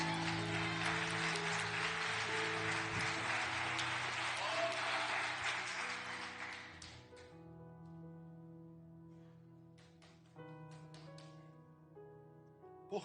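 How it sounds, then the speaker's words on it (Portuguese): Sustained applause from a church congregation fills the first half over a musical backing, then thins and fades out, leaving the music with a few scattered claps. "Aplauda Jesus."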